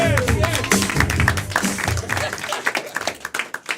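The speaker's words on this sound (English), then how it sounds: "Hey, clap for your players, everybody." An audience at a live show claps for the players, with dense applause and some voices at first that thin into a few scattered, distinct claps at the end.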